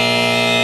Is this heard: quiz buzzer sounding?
yes